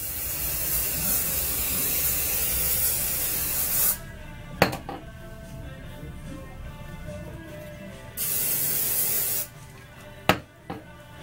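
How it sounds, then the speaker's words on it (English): Hairspray sprays onto hair in two long, steady hissing bursts, the first about four seconds and the second shorter, with quiet handling sounds and a couple of sharp clicks between them. "but I need to put a little more hairspray."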